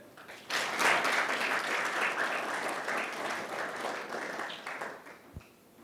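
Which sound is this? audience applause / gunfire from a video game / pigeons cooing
audience applause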